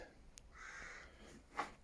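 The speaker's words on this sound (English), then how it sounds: "Even the crow agrees." A crow caws a few times outdoors, fairly faint and distant, with short harsh calls spaced apart against quiet background.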